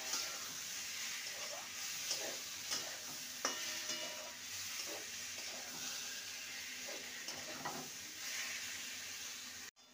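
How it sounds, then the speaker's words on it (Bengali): Fried potatoes and pointed gourd are stirred into moong lentil masala, the pan sizzling and hissing softly beneath intermittent scraping strokes of a spoon, with no voices. "ভালো করে নেড়ে নেব"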